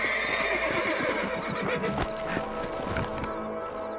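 A horse whinnies loudly over a steady Red Dead Redemption game soundscape, with hooves clip-clopping and a busy outdoor backdrop throughout.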